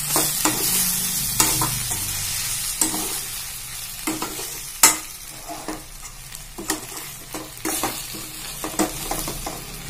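Brinjal curry with ground spice powder gets stirred in a pan, a spoon scraping and knocking in irregular bursts over a steady low sizzle, close and fairly loud with no talking.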